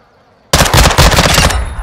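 Loud, close machine-gun fire from the video game MW2 (Modern Warfare 2), a sustained rapid burst that starts abruptly after a short quiet moment and rattles on without talk.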